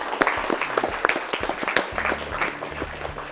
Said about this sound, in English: So let's clap for all the four teams